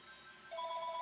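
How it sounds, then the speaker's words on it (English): A telephone rings in a quiet indoor room, its steady electronic tone starting partway through and holding clear and close. "That was a phone call."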